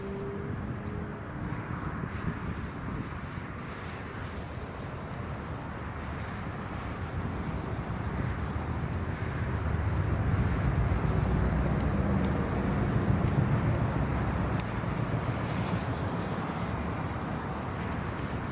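A jet2.com passenger jet at Birmingham Airport prepares for takeoff, its steady low engine rumble filling the air and swelling gradually louder, with a broad roar building toward the end.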